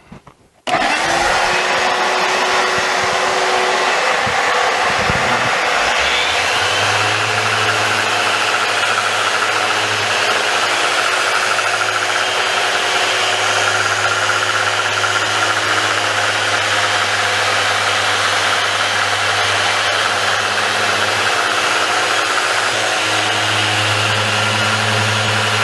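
A random orbital sander runs continuously on a piece of scrap oak, a loud steady whirring drone with a constant low hum and broadband abrasive hiss, alone without talk.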